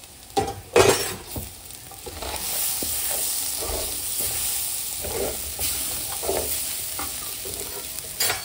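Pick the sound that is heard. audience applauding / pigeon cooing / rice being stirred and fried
rice being stirred and fried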